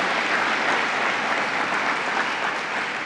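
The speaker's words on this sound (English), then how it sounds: "Let's give a round of applause to Steve DeMayo, Mohawk Valley Edge." Dense, steady applause from an audience at a New York governor's funding announcement, continuous and even for about three seconds with no speech over it.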